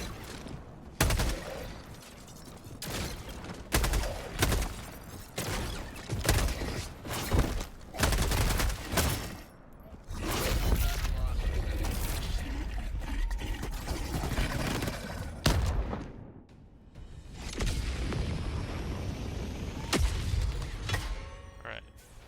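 Short bursts of rapid gunfire crack out in Helldivers 2 against an armored Overseer, sharp loud volleys separated by brief pauses, then a longer sustained stretch of shooting and impacts.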